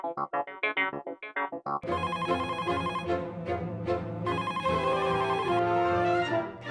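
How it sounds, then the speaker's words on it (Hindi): A telephone rings through a musical ringtone. A few short tonal beeps come first, then a loud, continuous melodic tune plays on without any talk. "मैं सोनू को फोन पे बता देता हूँ।"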